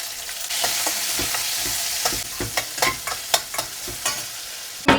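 Onion and garlic fry in a pan, a steady close sizzle broken by sharp scraping and stirring knocks that grow more frequent toward the end, with no speech.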